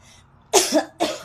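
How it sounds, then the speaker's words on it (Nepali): Two sharp, close coughs in quick succession, the first with a rough double burst, the second shorter, against a quiet background. "खोकी लाग्यो"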